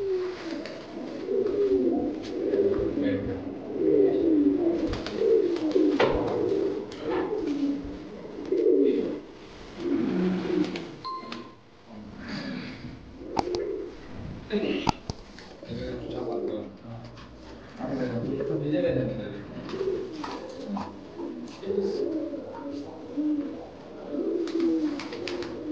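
Black Diamond and fantail pigeons coo over and over in low throaty rolls, loud and close, with a few soft chirps and voices talking now and then under the birds.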